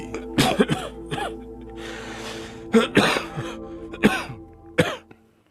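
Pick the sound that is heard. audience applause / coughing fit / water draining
coughing fit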